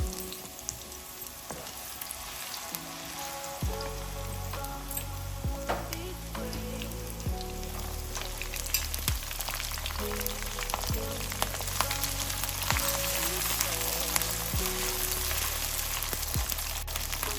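Ginger, garlic and green chili sizzling in sesame oil with fenugreek over a low flame, a steady crackling fry with occasional stirring clinks, moderately close and without speech.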